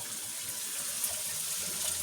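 Shower water runs in a steady, even hiss, close by and unbroken for a couple of seconds, with no talking.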